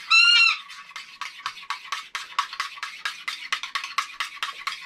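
A pet bird calls from inside an RV, a loud honking squawk at the start followed by a steady run of short, repeated chirping calls, fairly close and clear.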